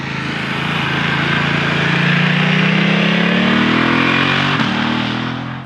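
A BMW F900 motorcycle's 895cc twin-cylinder engine revs steadily upward and then eases off, a loud, close, throaty drone with a rising pitch and no voices over it.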